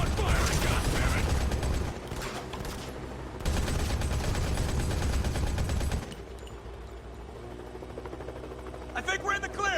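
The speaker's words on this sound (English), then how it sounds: "Keep on firing, goddammit!" Dense, sustained bursts of automatic gunfire and clattering mechanisms fill a Modern Combat 5: Blackout mobile game battle, loud and continuous with brief gaps, while shouted voices break in near the end.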